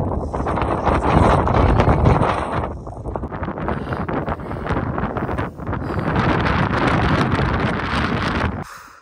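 Strong wind buffets the microphone at a foggy, forested hilltop viewpoint, a loud, continuous roar that swells and eases in gusts before cutting off abruptly at the end.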